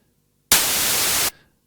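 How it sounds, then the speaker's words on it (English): White noise from a modular synthesizer noise generator sounds as a single loud, flat hiss that starts abruptly, holds for under a second and cuts off with a brief tail. "Make sure we're just listening to the noise generator"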